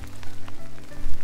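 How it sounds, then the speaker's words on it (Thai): Heavy rain falls outdoors in a loud, dense patter of drops close by, steady throughout with small surges, and no voices. "ฝนลงเม็ดหลายแล้วพี่น้อง"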